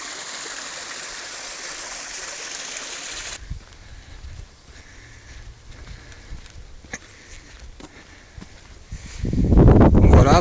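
A stream of muddy red water runs after heavy rains beside a well-kept hiking trail, a steady rushing wash that drops quieter partway through, then swells loud and close near the end.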